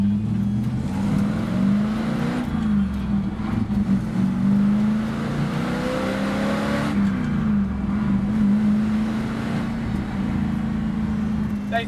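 A 1968 Dodge Dart muscle car with a 4-speed swap rumbles nearby with a deep, throaty engine note. It revs up and settles back several times, with voices faintly underneath.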